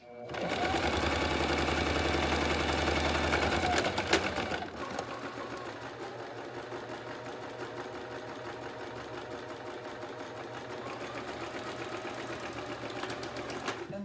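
A sewing machine stitches a pleated fabric face mask, its fast motor hum loud and steady at first, then shifting to a softer, continuous run after a few seconds, close by and without voices.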